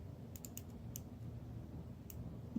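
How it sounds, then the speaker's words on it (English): Rotating bezel on a Seiko Marinemaster 200 (SBDD003) dive watch gives a few faint, sharp ratchet clicks at irregular intervals, heard up close in a quiet room. "The clicking is quite satisfied, everything lines up."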